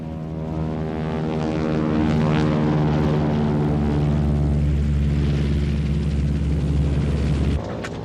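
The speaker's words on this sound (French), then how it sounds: "Là, un cargo américain qui vient de déposer armes et munitions sur la piste" American propeller cargo plane on an airstrip during the 1966 Laos war, its engines droning loud and close with a throbbing hum that swells, holds, then cuts off near the end.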